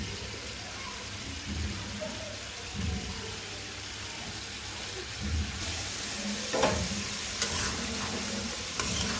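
Stinging catfish stir-fry in hot spiced oil, keeping up a continuous crackling sizzle with occasional scrapes of a stirring spoon. The sound stays moderately quiet and even throughout.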